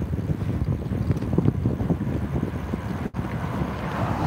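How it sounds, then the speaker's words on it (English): Loud, continuous buffeting wind roaring against a microphone while cycling fast downhill, with a brief dropout partway through and no speech. "I'm going really fast downhill, so there's a lot of wind"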